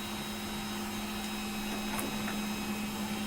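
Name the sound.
3D printer running with bed heating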